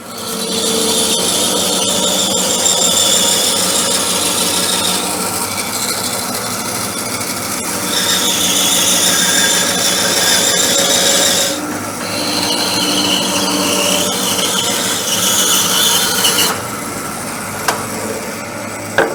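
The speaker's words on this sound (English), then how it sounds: "Setting this up to resaw, I want to have roughly 3/4 inches" A power saw resaws a wood board into roughly three-quarter-inch slices for coasters, a loud, continuous close-up whine and rasp lasting nearly twenty seconds with slight shifts in pitch, and no voices.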